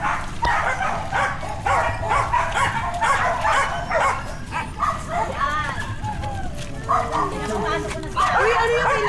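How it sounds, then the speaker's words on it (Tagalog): Several dogs at an animal shelter bark and yip repeatedly in a busy, overlapping chorus, loud and close, while people talk amid the barking. "Yung mga aso tahol ng tahol."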